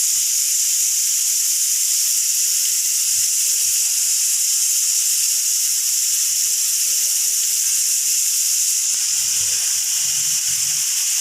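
Bitter gourd chips frying in a pan of hot oil: steady, loud bright sizzle and hiss that stays even throughout, with faint low bubbling underneath.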